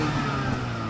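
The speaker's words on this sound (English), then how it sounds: "Just give you a little bit of rev." A 2016 BMW X1's 2-liter four-cylinder turbo engine revs briefly through split exhaust pipes, a steady close, loud mid-range engine drone with no speech.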